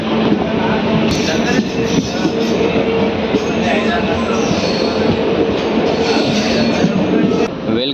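A Raichur–Guntakal DEMU passenger train runs steadily throughout, with a loud continuous rumble, rail noise and occasional wheel squeal heard from on board, no talking.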